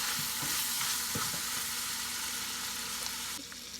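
Pre-seasoned sausage meat fries in a pan with a continuous close sizzle and occasional stirring scrapes, steady and fairly quiet, no talking.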